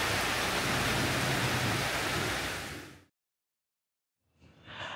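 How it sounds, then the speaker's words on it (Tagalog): Heavy rain in Antigua, Guatemala pours down as a dense, steady hiss that cuts off abruptly into silence, then faintly returns near the end. "Grabe, parang pang rainforest talaga yung ulan nila, oh."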